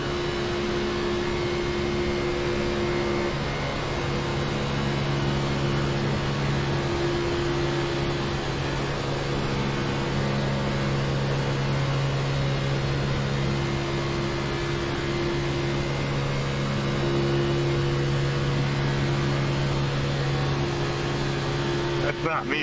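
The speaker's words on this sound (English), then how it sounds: "Oh, just had overdrive kick in there." Steady droning race car engine from an Xfinity Series car at Daytona in iRacing, a continuous loud hum with sustained tones that swell slightly, heard alone throughout.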